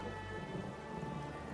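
Steady storm rain with rolling thunder on a stormy coast in The Elder Scrolls Online, a dense, continuous wash of downpour with low rumbling underneath, with no voices.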